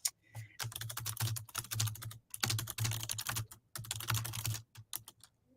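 Quick typing on a computer keyboard, close and fairly quiet, with rapid clustered keystrokes broken by short pauses across several seconds.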